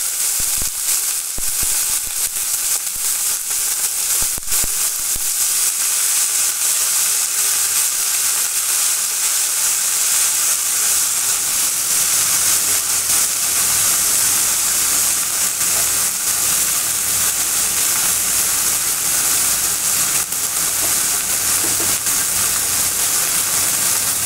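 Salted okra frying in hot oil, a steady, loud sizzle and hiss that runs continuously for the whole stretch, with a few brief clatters near the start.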